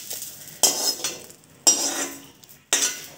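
Moringa leaves fried in a spoonful of oil in a pan are stirred with a utensil, making three distinct scraping, clinking strokes spaced about a second apart.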